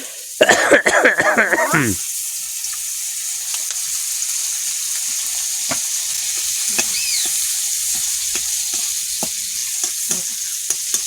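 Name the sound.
garlic frying in oil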